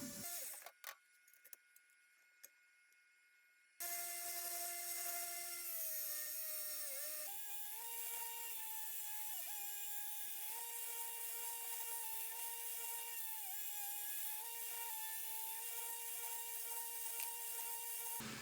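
A wood bevel is ground using a jig. After a few light knocks, a loud, steady motor whine starts and runs continuously, with its pitch dipping slightly as the grinding takes hold.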